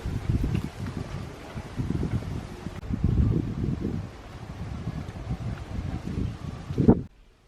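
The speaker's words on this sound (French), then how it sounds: "C'est super venteux." Steady blustery seaside wind in Essaouira, Morocco, buffeting the microphone, a low rumbling roar that swells and eases for several seconds before cutting off abruptly.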